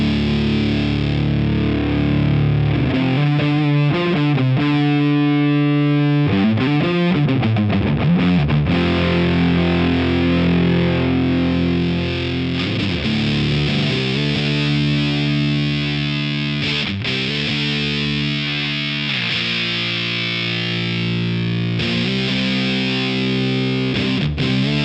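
Electric guitar runs through an EHX Sovtek Deluxe Big Muff Pi distortion pedal, heavily fuzzed and sustained chords and riffs ringing loud and thick, shifting between held notes and choppy strums for about twenty-five seconds with no talking.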